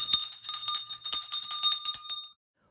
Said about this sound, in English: I'm ringing the job bell in your honor